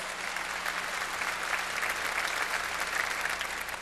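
A church congregation breaks into steady, full applause throughout a Korean worship service sermon during Holy Week, with dense overlapping clapping holding an even level from start to finish.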